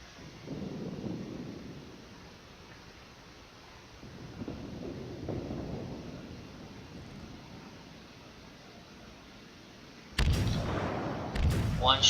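Warship guns fire in World of Warships as repeated deep, booming rumbles that swell and fade every few seconds, ending in a louder, harsher cluster of heavy blasts.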